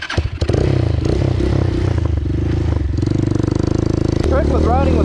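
Hawk 250 motorcycle ridden through sand, its engine pulsing steadily with rising and falling revs and some clattering, loud and near, with a person talking over it.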